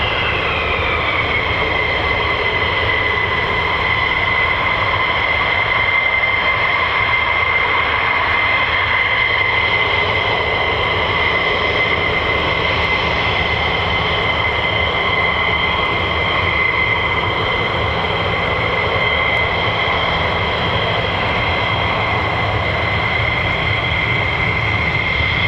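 F-15 fighter jet with twin Pratt & Whitney F100-PW-229 engines at RAF Lakenheath, a loud continuous roar with a steady high whine running through it, unbroken for the whole stretch.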